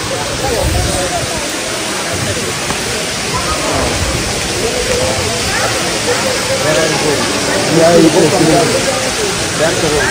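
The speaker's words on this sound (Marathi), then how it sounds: "धबधबा" A steady roar of rushing, falling water from a waterfall at Ekvira, with people talking faintly underneath.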